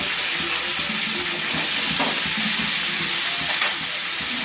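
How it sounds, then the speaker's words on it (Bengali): Hot water poured into a pan of well-browned cooked meat sets off a loud, steady sizzle and bubbling hiss of steam, continuous and close with no voices. "তো গরম জলটা দিয়ে দেবো ওর মধ্যে।"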